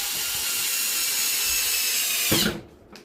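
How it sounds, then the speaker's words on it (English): A power driver whirs steadily as screws are driven into the bottom of an Arrma Kraton 4S RC car chassis, then cuts off abruptly near the end, leaving a brief faint clatter. "when you screwing these screws into the bottom here"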